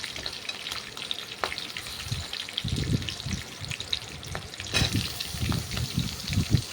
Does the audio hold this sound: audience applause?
no